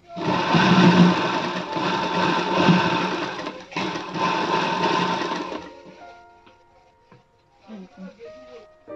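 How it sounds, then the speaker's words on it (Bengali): A sewing machine runs a long, loud, continuous stitch along a princess-cut blouse for about six seconds, then falls quiet with only a few light clicks and taps. "এখানেও কিন্তু আমি একটু চাপ সেলাই দিয়ে নিলাম"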